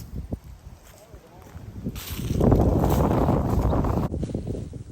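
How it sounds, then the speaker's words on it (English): Strong gusts buffet the microphone, swelling into a loud, broadband rush midway before easing, with a few faint voices underneath. "And it's very windy"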